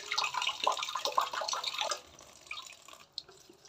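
Rau trai greens being rinsed in water, with close splashing and swishing that runs steadily for a couple of seconds, then fades to a few faint, scattered drips.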